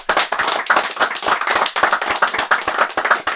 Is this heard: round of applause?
yes